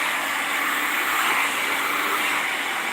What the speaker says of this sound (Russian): Я просто переворачиваю фен и использую обратную сторону.